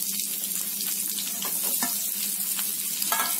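Curry leaves and sliced onion frying in hot oil, giving a steady close sizzle with crackles and a few clinks from stirring, with no voices.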